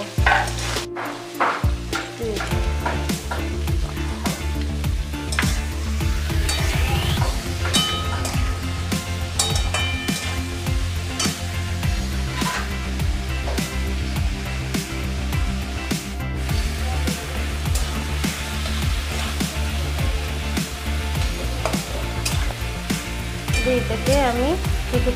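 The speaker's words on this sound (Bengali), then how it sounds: "পেঁয়াজ কুচি দেওয়ার পর পেঁয়াজ কুচিটাকে নুন দিয়ে একটু ভেজে নেব।" Chopped onion with salt fries in a pan for a homemade chicken and potato curry, a continuous loud sizzle with occasional stirring scrapes and clinks close by, steady the whole time.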